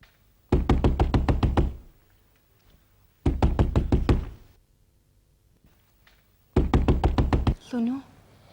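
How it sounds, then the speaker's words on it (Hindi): Knocking on a door at night, heard as three loud, close bursts of rapid knuckle raps, each run of about eight to ten knocks separated by short silences, followed by a brief voice at the end. "देखो ना, दरवाजे पे कोई नॉक कर रहा है।"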